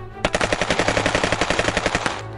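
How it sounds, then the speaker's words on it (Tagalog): Rapid automatic gunfire used as a sound effect in a Tagalog audio drama, a loud, close burst of around twenty evenly spaced shots fired in quick succession, with no talk. "Putok na naman."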